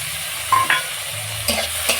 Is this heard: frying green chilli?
yes